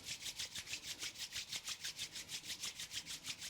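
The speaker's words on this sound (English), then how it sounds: "rub the palms together, create some heat between the hands" Two palms rub briskly together in a steady back-and-forth rhythm, roughly five strokes a second, a soft close swishing friction sound with no voices.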